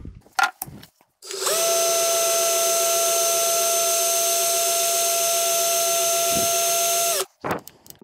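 A 12V cordless drill in second gear spins up and runs steadily at high speed, about 1359 rpm, for several seconds with a bright whine, then stops abruptly; brief handling noises before and after.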